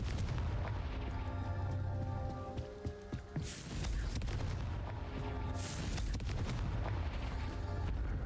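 Confringo fire spell explosions in Hogwarts Legacy, dense booming blasts and crackling debris layered over constant game rumble and music, loud and continuous with a brief dip midway.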